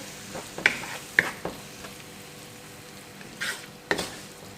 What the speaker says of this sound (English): Gently mix everything together.